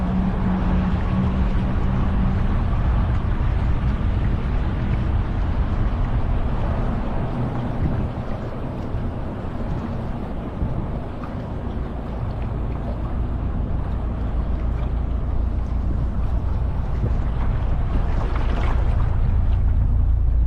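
A dual-engine tour boat at Hoover Dam, a loud steady engine drone with water rush and wind buffeting, continuous throughout.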